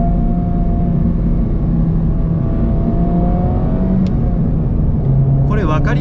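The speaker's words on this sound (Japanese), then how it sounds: "じゃあもう一回6速からシフトダウンをしていきますけども" Engine of a new Honda Civic Type R heard from inside the car while downshifting from sixth to second gear, a steady low drone with a brief rise in revs near the end.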